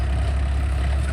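A Farmtrac 60 tractor, a 55 HP 2020/21 model with freshly set tappets and pump, runs at a steady, smooth idle, a close, constant low diesel rumble with no revving.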